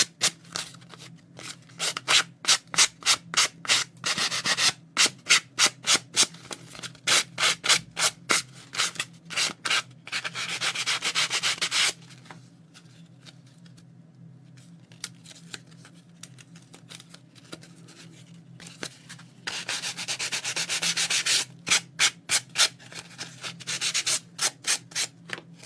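Sandpaper rubs around the edge of a Gelli plate paper background in quick rhythmic bursts of scratchy strokes, close and crisp, with a few pauses of near quiet between runs.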